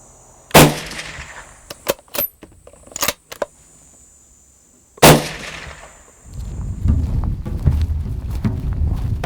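A .25-06 rifle fired outdoors while being zeroed, two sharp, loud reports several seconds apart, each with a ringing tail, interspersed with small metallic clicks and handling noises, then a low rumbling background near the end.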